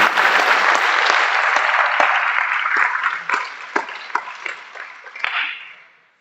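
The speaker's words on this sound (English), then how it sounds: "Let's have one more round of applause for all of our MVPs." Audience at a high school athletics awards ceremony applauding the MVPs, a dense burst of clapping that thins to scattered individual claps and fades out.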